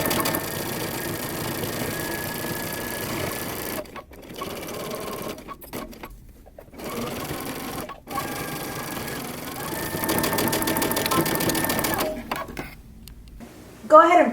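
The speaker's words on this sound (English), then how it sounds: "we're going to sew this down using 5/8 of an inch seam allowance" A sewing machine runs in long steady bursts sewing a moto jacket seam with a 5/8 inch allowance, pausing briefly between runs, with a voice talking over parts of the stitching.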